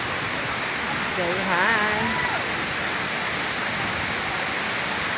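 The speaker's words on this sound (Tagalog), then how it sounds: "Perfect din ang Batlag Waterfalls." Batlag Waterfalls in Tanay, Rizal pours as a constant broadband rush of water, steady and enveloping, while a voice speaks briefly over it near the start.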